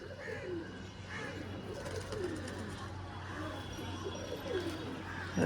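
Fancy-eyed pigeons coo repeatedly inside a pigeon shop, soft low burbling calls rising and falling at moderate distance over a steady background hum, with faint voices nearby.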